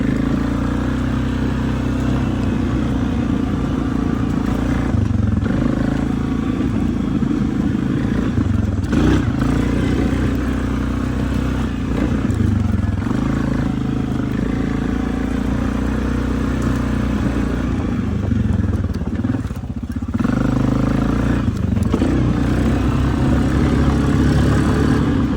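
A 2019 Suzuki King Quad 750 ATV engine running steadily at idle, a loud continuous low rumble with slight surges and mechanical clatter throughout, no talk.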